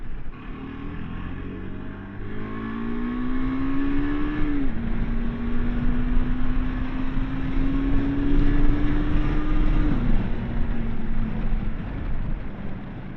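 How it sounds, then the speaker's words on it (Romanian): A 2022 KTM 390 Adventure motorcycle engine revs and climbs in pitch, dropping briefly at two gear shifts before pulling higher again, loud and close over continuous wind rush. "motocicleta accelerează decent"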